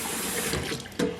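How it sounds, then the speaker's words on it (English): Water runs steadily into a bowl of rinsed dent corn at a kitchen sink, a continuous close splashing rush that briefly swells near the end. "And now I'm going to put some water over here in this bowl."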